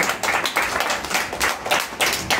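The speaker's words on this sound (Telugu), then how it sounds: "చప్పట్లు కొడతామా గట్టిగా?" A church congregation clapping hands together in praise, rhythmic bursts of many hands striking close by, roughly evenly spaced claps over a couple of seconds.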